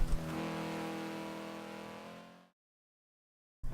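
A Honda Civic Type R Forza Edition accelerating in Forza Motorsport 7 on a drag test at Barcelona, a steady engine drone that holds for a couple of seconds and then cuts to silence before a brief return.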